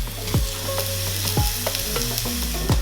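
Bread warming in a hot pan, with a steady close sizzle and occasional scraping stirs or shifts of the bread.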